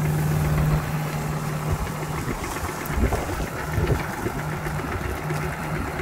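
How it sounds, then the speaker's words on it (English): A Kubota tractor engine idles steadily close by, a continuous low rumble with a droning hum, with faint voices and outdoor activity underneath. "we got Rusty out here on the Kubota"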